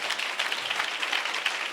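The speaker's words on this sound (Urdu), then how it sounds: "ایٹ لیسٹ ہمیں خدا کے جلال کے لیے تالیاں بجانی چاہیے" A church congregation applauds for God's glory during a sermon, a dense, continuous crackle of many hands clapping at steady loudness.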